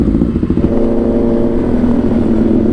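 A motorcycle being ridden, its engine droning loud and close with a steady tone that firms up after a brief clattery start, heard alone without talk.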